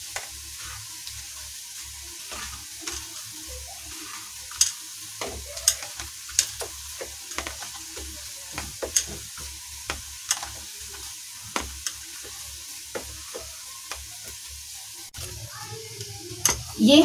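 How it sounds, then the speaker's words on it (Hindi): Onions frying with masala powder and black pepper sizzle quietly in a pan while a spoon stirs them, giving a steady run of light scrapes and taps, with a louder clatter near the end. "ये हमारा मसाला अच्छे से मिक्स हो चुका है और अब मैं प्याज को चेक कर लेती हूँ। और ये हमारे प्याज भुनने लगे हैं।"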